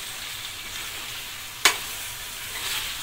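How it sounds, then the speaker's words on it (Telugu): Ground masala being stirred into chicken curry frying in a pan gives a steady, even sizzle throughout, broken once by a single sharp clack of the utensil. "ఇప్పుడు మిక్సీ పట్టుకున్న మసాలా కూడా వేసేసి బాగా కలుపుకున్నాము."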